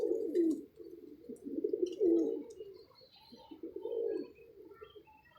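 A pigeon cooing nearby in soft, repeated low rolling phrases, a few coos in a row, with faint chirps from other birds in the background.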